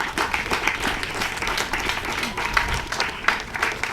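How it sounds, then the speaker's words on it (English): A crowd applauds the trainers at a military passing out parade for the St Kitts and Nevis Defence Force, steady dense clapping at moderate loudness throughout with faint background voices. "Let's give all the trainers a round of applause."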